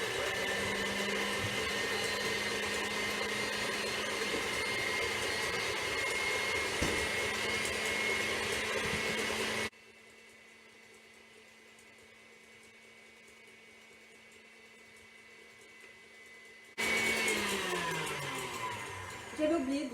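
An electric mixer whips egg whites for a cereal cookie recipe, a loud steady motorized whir that cuts out midway, leaving quiet for several seconds, then starts again near the end.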